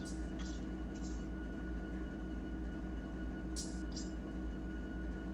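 A freight locomotive in a train simulator game throttles up to notch 3, a steady low diesel drone and rumble holding throughout with a few brief higher hisses.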